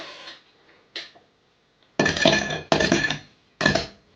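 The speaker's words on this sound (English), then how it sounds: "Get your highball glass, guys, and fill it up halfway with ice." Ice cubes dropped into a highball glass for an orange-topped cocktail, heard as a few loud, close clattering bursts with short gaps between them and no talking.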